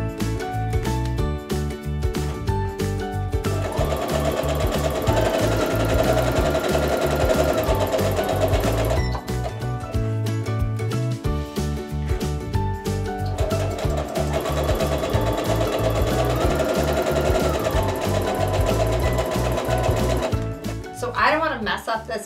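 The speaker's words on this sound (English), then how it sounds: "you can just sew a bunch of them together as you wish" A sewing machine stitches quilt block pieces together in long, continuous runs. The steady mechanical whir plays under background music.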